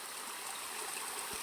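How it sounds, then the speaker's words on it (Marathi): Stream water flows down near a riverside farmhouse, a faint, continuous, even rush of water with no voices. "ते बघा तिथून पाणी येतं"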